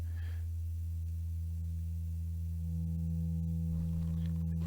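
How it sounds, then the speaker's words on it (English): A steady low E fundamental sine tone hums continuously and evenly, joined partway through by a second pure tone above it, with faint background hiss and no speech. "So that's our fundamental, is that low E. You can see the sine wave."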